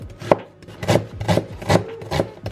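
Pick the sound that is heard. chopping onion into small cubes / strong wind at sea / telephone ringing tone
chopping onion into small cubes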